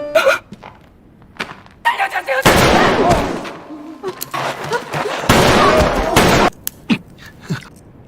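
Loud gunshots in the Squid Game film ring out in harsh broadband bursts, two long sustained blasts among scattered shorter impacts and thuds.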